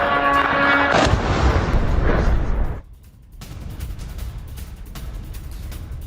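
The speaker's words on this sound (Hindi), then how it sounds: "एयरपोर्ट के पास एक साथ 5 धमाके हुए और धरती दहल गई।" Explosions near the airport in Erbil, Iraq, heard as a heavy booming blast and rumbling aftermath early on, followed by quieter distant crackle and thuds.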